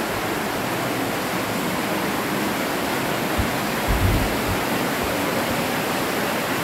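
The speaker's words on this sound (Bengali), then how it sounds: "রাস্তার মধ্যে থেকে জল আসছে।" Water flowing across a road near a cave in Meghalaya, a constant broad rushing wash like a small stream or waterfall, steady and fairly loud with a few low bumps.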